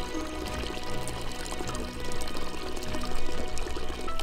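Alarkot spring water at Goshavank runs in a steady, close, continuous splashing flow, alone without voices, its level rising and falling gently throughout.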